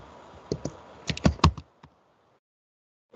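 Code being typed on a computer keyboard: several clusters of sharp, close keystrokes over about a second and a half, a lone tap after, then quiet.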